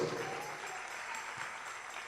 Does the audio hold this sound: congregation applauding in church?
yes